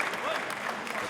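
A wrestling crowd at a live independent show claps steadily and evenly in a big hall, a broad dense wash of applause with no voices standing out.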